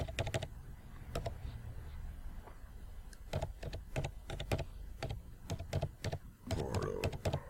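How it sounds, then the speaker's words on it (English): Typing on a computer keyboard, close and clear, in quick bursts of rapid key clicks separated by short pauses, with a low steady hum underneath. "Let me type that in."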